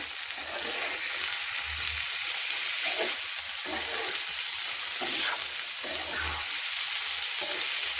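Paneer cubes sizzle steadily in hot ghee, a continuous close frying hiss broken by a few soft scrapes and taps as pieces are turned over in the pan.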